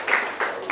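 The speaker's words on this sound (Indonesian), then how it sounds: "Oke, tepuk tangan untuk kita semuanya." Classroom applause in a teacher's practice lesson, a short burst of dense clapping from a group of students, fairly close and steady with slight swells, no talking over it.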